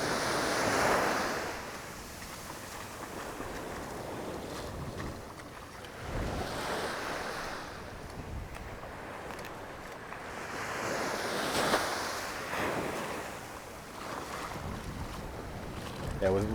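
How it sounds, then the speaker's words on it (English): Ocean waves rolling in on Maho Beach, St. Maarten, near the airport, with surges of surf swelling and breaking every few seconds under steady wind noise, fairly close and loud throughout. "major waves that come in here."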